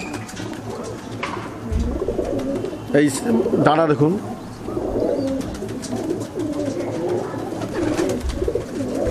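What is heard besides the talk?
female pigeon cooing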